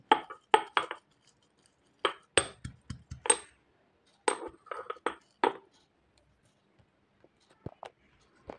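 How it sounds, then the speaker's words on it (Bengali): Garlic and chilli pounded in a mortar and pestle, heard as sharp, irregular clinking strikes in short bursts, close and fairly loud, separated by quiet pauses. "দেখুন, হামানদিস্তার সাহায্যে এটাকে থেতো করে নিচ্ছি।"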